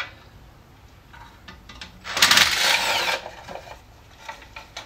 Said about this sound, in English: I've got my tool here to remove the dust cap or hub